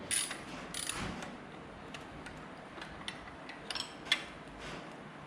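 Wrench breaking torque on the headlight block bolts of a Harley-Davidson Dyna Street Bob during a handlebar install, heard as faint, scattered mechanical clicks and ratcheting ticks over a quiet workshop background.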